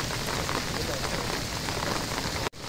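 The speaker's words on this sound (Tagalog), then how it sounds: "kahit umuulan" Rain falls steadily at a bangus fishing spot in Valenzuela City, a dense, loud hiss of drops on surfaces that continues with a brief cut near the end.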